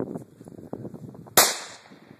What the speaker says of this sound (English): What are you shooting now? Savage, Model 93, 22 mag.